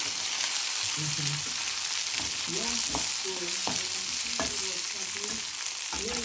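Omena, small Kenyan fish, frying in oil with a steady hissing sizzle and occasional sharp stirring clicks, close by, while a voice talks intermittently over it.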